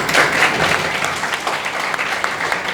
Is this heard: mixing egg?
no